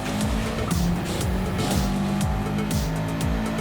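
A Subaru WRX Gr.4 race car in Gran Turismo 7 at Fuji International, its engine rising and falling as it accelerates with rapid repeated gear changes and some tire squeal, loud and steady with no voices.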